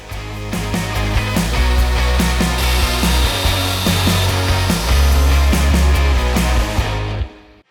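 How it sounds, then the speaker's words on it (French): A Parkside belt sander grinds against wood with a loud, continuous whine and rhythmic scraping strokes, then cuts off abruptly at the end. "on va prendre la ponceuse à bande Parkside et on va essayer de rester bien perpendiculaire à la surface"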